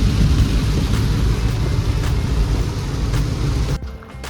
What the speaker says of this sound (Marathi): हा बघा पाऊस पण सुरू झालेला आहे आता